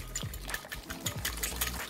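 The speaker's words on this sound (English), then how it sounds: "we're gonna whisk all of that up" Liquid marinade with pepper being whisked in a bowl, a quick series of wet sloshing and splashing strokes, close and fairly soft, repeating in a steady uneven rhythm.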